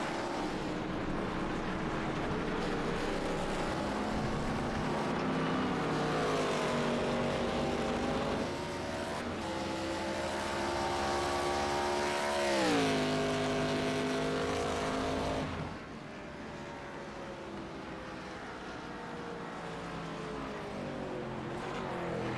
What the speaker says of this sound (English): Dustin Ping will be the final car across the line.